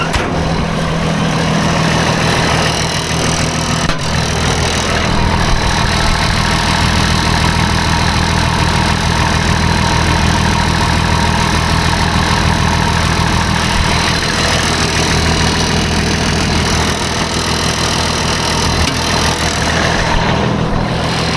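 A logging truck engine idles on a freezing winter day, a steady low diesel rumble with a constant hum that runs unbroken and loud from start to finish.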